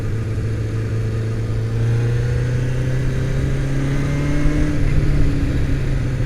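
A 1978 Honda CB750F motorcycle engine cruises steadily with a smooth, continuous drone, heard up close. Its pitch rises gently and holds, and no one speaks.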